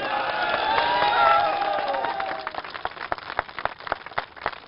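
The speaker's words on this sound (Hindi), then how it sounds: "ये करतल ध्वनि, ये तालियां" A crowd at a live Hindi TV debate bursts into loud applause and cheering, with whoops and shouts rising at first, then settling into rhythmic, sharp clapping that continues to the end.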